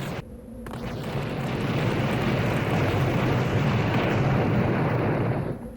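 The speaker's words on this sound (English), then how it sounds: "That kept exploding long after the bridge was gone." Continuous roaring explosion rumble from the video game Blood, a loud dense boom that keeps rolling on without a break and is heard alone.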